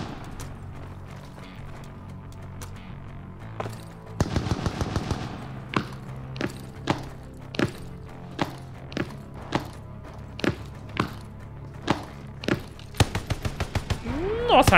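Gunfire in Call of Duty Vanguard, sharp single shots spaced about a second apart, interspersed with short rapid bursts, punchy and fairly close over a quiet background.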